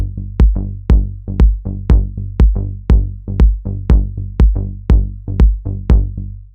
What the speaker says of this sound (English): So right now the bass just sounds like this.